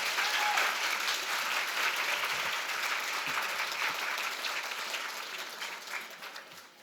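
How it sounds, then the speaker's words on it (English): Sustained applause from a breakfast audience at a Sault Ste. Marie Chamber of Commerce Women in Business event, a dense even patter of many hands that carries on for several seconds and then tapers off near the end. "Round of applause for Theresa Mudge."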